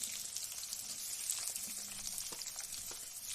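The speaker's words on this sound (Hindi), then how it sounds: "अब जो कटा हुआ लहसुन है वो हम इसमें डाल देंगे। इसी के साथ प्याज भी डालेंगे।" Chopped garlic and onion frying in hot oil with carom seeds for a cluster beans sabzi: a steady, close, hissing sizzle that holds without a break, no one talking.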